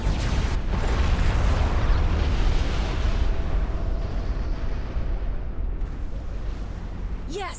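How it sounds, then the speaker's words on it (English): A giant Colossus unit exploding in the strategy video game Supreme Commander 2, a long loud roaring blast with rumbling debris that slowly tapers off, ending in a rising whoosh. "The Colossus is down! The bigger they are, the bigger their explosion."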